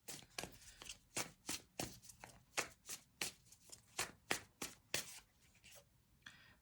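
Tarot cards shuffled by hand in a rapid run of about a dozen crisp riffling bursts, close and fairly loud, with no talking.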